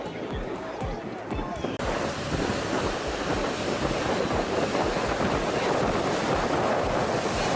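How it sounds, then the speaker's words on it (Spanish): Heavy sea swell surges and crashes around a small fishing boat in rough water, a dense, continuous roar of waves and wind buffeting the microphone, loud throughout with a sharp jump in intensity early on. "Una pequeña embarcación de pesca lucha por abrirse paso entre un fuerte oleaje"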